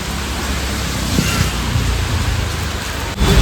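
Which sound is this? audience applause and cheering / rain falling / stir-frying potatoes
rain falling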